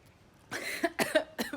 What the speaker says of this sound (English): I'm probably not gonna edit that cough out